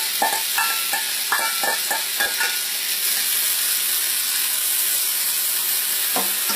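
Two chopped yellow onions fry in olive oil in a pan over slightly under medium heat, giving a steady close sizzle with a few clinks and scrapes of stirring in the first seconds and near the end.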